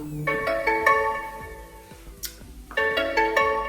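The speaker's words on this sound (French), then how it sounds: "il reste 4 secondes et ça va sonner. En petite sonnerie sympa." A bright electronic melody of stacked chiming tones from a Thermomix Friend kitchen appliance signals the end of cooking, playing for several seconds, pausing briefly before the tune resumes, with no talking.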